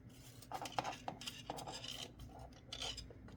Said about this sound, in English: I just get it in the jaws of my pliers and just kind of burnish it down